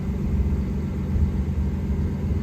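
A 1990 Nissan 300ZX engine idles steadily after a cold start, settling toward a low idle under 1,000 RPM, with a continuous deep rumble that stays close and even throughout with no voices.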